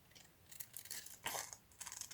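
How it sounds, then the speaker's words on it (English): Scissors cut around the edges of paper in several short, crisp snips, close and quiet, with no speech. "I'm just going to cut around the edges"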